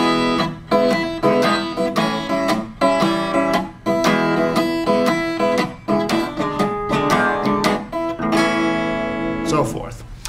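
Blues progression using the quick four chord change, played as rhythmic chord strums with a steady shuffling pulse, clear and upfront, with the final chord ringing out at the end.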